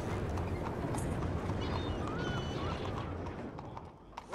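Horse hooves clip-clop steadily in Red Dead Redemption 2, a dense run of hoofbeats over ambient game noise with faint background sounds, continuing throughout.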